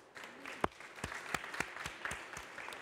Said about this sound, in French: On peut l'applaudir de nouveau.